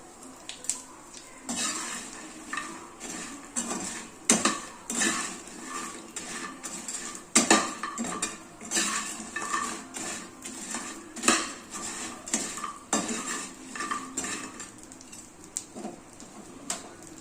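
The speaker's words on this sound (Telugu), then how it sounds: "పొడి వేసుకుంటే కలపాలి చూడండి ఇట్లా పొడి వేసుకుంటే కలపాలి" Fried mini idli tossed with spice powder in a pan, giving busy metallic scraping and clinking of a utensil against the pan that runs nonstop at close range.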